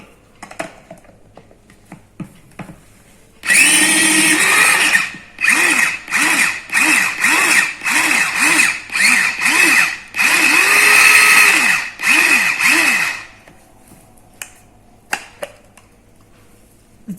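A portable USB vegetable chopper chops onion in loud, close whirring motor bursts, about ten short pulses of a second or so each, separated by brief pauses, with quiet handling sounds before and after.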